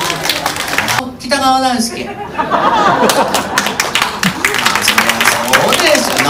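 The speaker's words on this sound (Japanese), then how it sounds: "なんで拍手してんのあんたたち" Audience clapping at a 60th-anniversary concert for a Showa-era enka performer: a steady, dense patter of many hands that runs throughout the clip. A man and a woman chatter and laugh loudly over it.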